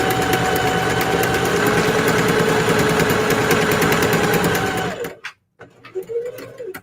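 A Singer HD sewing machine stitches letters cut from scrap fabric, running in a loud, steady whirring hum for about five seconds before stopping, followed by a few soft handling noises.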